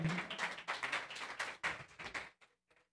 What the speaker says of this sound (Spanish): Amén, un aplauso.